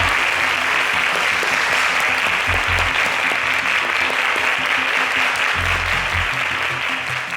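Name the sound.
audience applause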